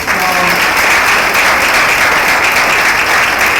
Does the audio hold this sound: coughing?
no